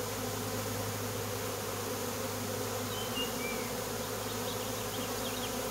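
Honey bees swarm and buzz around an open hive during an inspection, a dense, steady drone that stays close and loud with no pauses and no voices.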